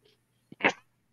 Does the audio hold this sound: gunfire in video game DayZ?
no